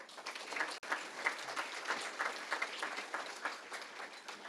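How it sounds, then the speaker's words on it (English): An awards ceremony audience claps in steady, sustained applause for several seconds, heard at moderate distance in a hall. "Please give them another round of applause."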